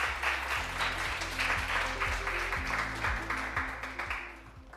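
Sustained applause from a conference audience greeting the president of Seoul National University, a dense steady wash of many hands clapping that holds loud throughout and tapers slightly at the end.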